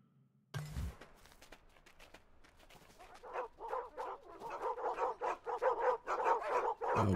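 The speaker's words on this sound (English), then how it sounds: "A bunch of dogs." A pack of dogs barks in Endling: Extinction is Forever, starting after a sudden thump, then growing into a rapid, overlapping series of barks that gets louder and more insistent.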